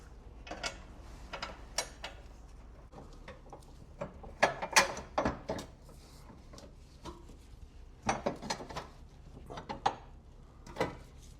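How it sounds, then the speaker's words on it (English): Bolts are threaded back in by hand on a Subaru WRX fender brace install, giving close, irregular metallic clicks, ratcheting ticks and clinks in scattered bursts with no talking. "now I'm going to start putting some bolts back in, doing them in just finger tight loose to get started"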